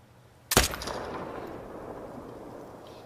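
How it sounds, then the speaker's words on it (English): A single AR15 rifle shot fired at a 100-meter target in theHunter: Call of the Wild, a sharp loud crack followed by a long rolling echo that fades slowly across the open landscape. "I'm going to fire this at 100 meters unscoped"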